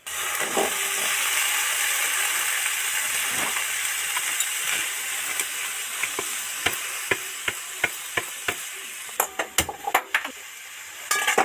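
Potatoes and chopped banana flower seasoned with asafoetida are stirred in a hot frying pan, a steady sizzle running throughout while a spatula scrapes and taps the pan in sharp clicks that grow more frequent toward the end.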